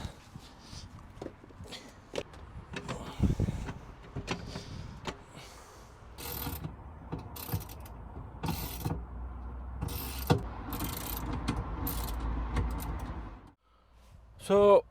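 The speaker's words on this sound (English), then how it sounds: "Now I'm going to put the seat back on and bolt it up with the existing, with the new bolts" Ratcheting and clicking of a hand tool come in short repeated bursts as a swivel seat base is bolted into a VW T6 Transporter van, close by, with creaks and handling noises between the bursts.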